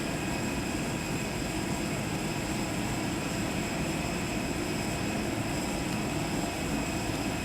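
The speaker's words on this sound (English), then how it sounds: "I have video evidence of an Airbus A321 landing at Madeira" Airbus A321 on approach and landing at Madeira in a flight simulator game, a steady, loud engine and airframe roar that holds evenly throughout with no voices.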